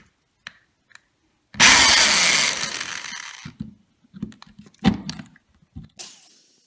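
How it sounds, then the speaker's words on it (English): A power drill bores out a rivet on a 2007-2013 GM truck or SUV door lock actuator, starting with one loud, sustained grinding burst of nearly two seconds, then fading into quieter clicks and short taps, with another brief whir near the end. "We're going to go ahead and drill the other one next."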